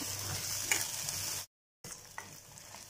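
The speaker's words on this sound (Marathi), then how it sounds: "सगळं पाणी आटेस तोपर्यंत मसाला परतत राहायचा आहे." Masala for a sprouted moth bean curry sizzles in oil as it is stirred in a pan, a steady close frying hiss with light scraping, broken by a short silent gap.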